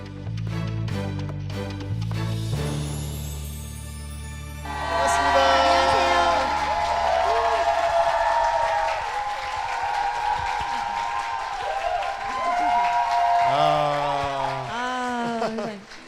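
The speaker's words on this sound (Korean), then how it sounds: "박수 함성만으로도 벌써 분위기를 알 수 있을 것 같습니다" School audience at a Christian school bursts into applause and cheering with whoops after an opening musical passage, the crowd noise swelling and holding for several seconds while tonal music continues beneath.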